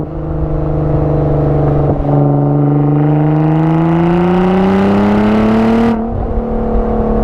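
A Nissan GTR, otherwise stock, with an aftermarket exhaust, revs loudly up close: a deep, strained engine note climbs steadily for several seconds, then drops sharply as the throttle is released, with no talking.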